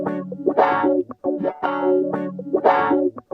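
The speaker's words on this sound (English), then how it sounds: "We're literally adding like a second layer of melodic information now beneath our original guitar part." Electric guitar run through the BLEASS Slow Machine effect plugin, a processed, chorused and slightly distorted tone with a second melodic layer beneath, sounding in three rhythmic phrases with brief gaps, loud and close with no talking.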